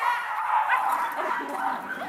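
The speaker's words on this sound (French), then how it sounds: "Voici des Pomsky, un croisement entre un loulou de Poméranie et un husky." Pomsky puppies, a Pomeranian and husky cross, barking and yipping in quick high-pitched bursts at a breeder's kennel, close and lively, with a little whimpering.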